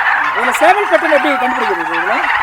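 Large chickens, a rooster of about four kilos and a hen of two and a half to three kilos, give a loud, close run of warbling, gobble-like clucks in rapid succession.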